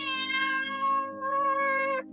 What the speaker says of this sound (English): The eighth sound is the growl and the scream.